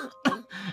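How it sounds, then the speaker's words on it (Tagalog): Smoker's cough: a short harsh throat-clearing cough followed by a rougher second hack, close and brief with no talking. "Palala na ng palala yung ubo mo eh."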